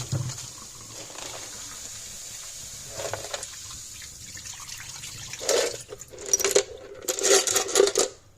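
Rusty metal parts fresh from a vinegar soak are rinsed in water, with soft trickling and splashing that grows into louder bursts of running water and clinking near the end, close by.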